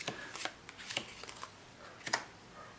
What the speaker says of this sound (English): I'll lay out the rest of the cards in his hand